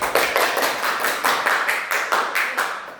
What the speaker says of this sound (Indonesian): berikan aplaus kepada Hesti